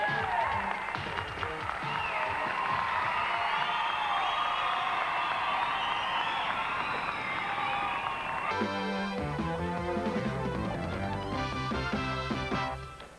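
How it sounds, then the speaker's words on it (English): Audience applause and crowd noise fill a 1986 international BMX freestyle competition, a dense, steady wash of clapping that carries on loudly before music joins partway through. "let's have a big round of applause for all the competitors."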